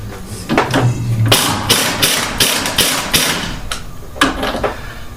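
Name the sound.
pulsing a power tool on a Mustang GT strut shaft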